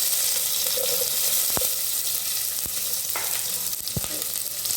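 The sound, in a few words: frying chopped shallots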